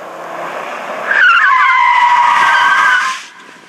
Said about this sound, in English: So we just performed a skid test out here.